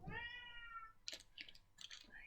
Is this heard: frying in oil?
no